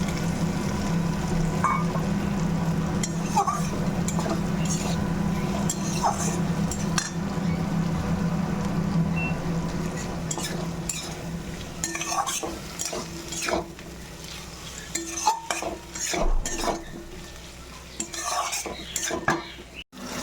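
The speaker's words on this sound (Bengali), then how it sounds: "এই যে মশলা একদম সুন্দর করে ভাজা হয়ে গেছে।" Spices frying in a pan for a fish curry, stirred steadily with a metal spoon, scraping and clinking against the pan over a continuous sizzle; the stirring grows sparser and sharper toward the end.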